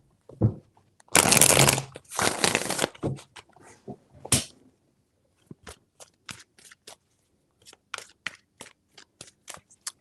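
Tarot cards riffled and shuffled in several quick bursts, followed by lighter taps and card slaps spaced out, close and clear with no voice.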